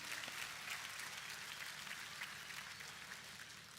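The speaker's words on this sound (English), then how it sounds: "give all of our sponsors a round of applause" An outdoor festival crowd at an opening concert at Toyota Park applauds its sponsors, a steady, faint wash of distant clapping with no talk over it.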